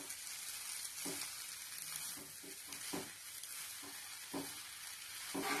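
Grated pumpkin sautés in ghee for halwa with a quiet, even hiss of frying, broken by intermittent scraping taps of stirring, with no voices.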